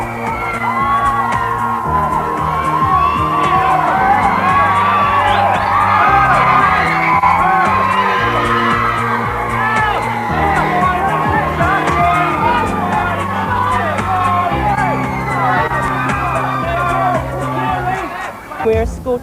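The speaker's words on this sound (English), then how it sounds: "people screaming and shouting" A large crowd of fans at the Brit Awards screams and shouts without pause, dense high-pitched cheering and yelling held at a steady loud level over a pulsing music bed.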